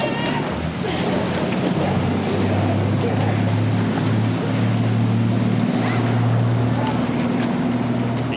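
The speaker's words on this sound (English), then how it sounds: "the noise created by the boat" A racing rowing boat surges through the water at the Henley Royal Regatta, producing a continuous rushing wash with a steady low drone that holds evenly throughout.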